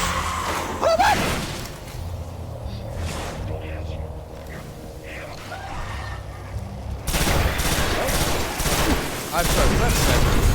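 Sniper rifle shots ring out in the video game Destiny: a couple of isolated booming cracks, then a dense stretch of heavy gunfire, mixed with voices talking throughout.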